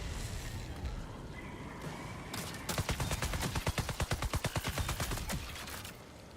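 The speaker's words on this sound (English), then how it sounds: "Someone's inside shooting." Rapid video game gunfire, a quick burst of roughly twenty evenly spaced shots rattling like an automatic weapon, loud and close after a few seconds of muffled background noise.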